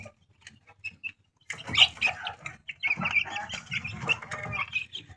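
A free-range hill-breed mother hen with chicks, nearby clucks and chirps coming in short irregular bursts after a quiet start, with no talk.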